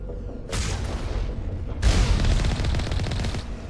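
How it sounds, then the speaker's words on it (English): Gunfire in the video game Mass Effect during an outpost fight, two loud bursts of rapid weapon fire, each starting abruptly and rolling on with dense booming shots, close and alone. "Let's go ahead and put a couple of shots on target."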